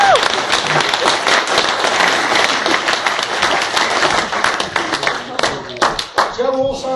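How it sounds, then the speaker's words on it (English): A wedding reception audience claps steadily during a best man's speech on Boxing Day. The applause is loud and crowded, with dense clapping that thins out near the end as a voice comes back in. "Definitely worth a round of applause."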